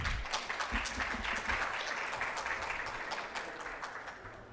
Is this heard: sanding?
no